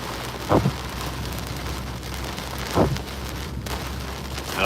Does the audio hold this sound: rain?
yes